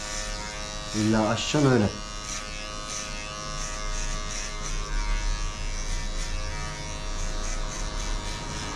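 An electric hair clipper cutting hair during a barbershop haircut hums steadily and close throughout, with someone speaking briefly over it near the start.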